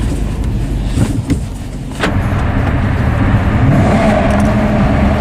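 Inside a moving Maserati GranTurismo, the engine hums steadily and then swells as it revs higher, loud and close over a constant rumble of road noise.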